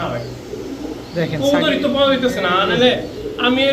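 A pair of Pakistani Saki Teddy pigeons coo up close in a loud, warbling, repeated rhythm that grows fuller after a quieter start.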